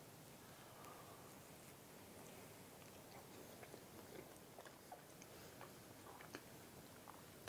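Faint, close-up chewing of a caramel apple pie cookie: soft, irregular crunchy clicks and mouth sounds over a quiet background hiss, with no talking.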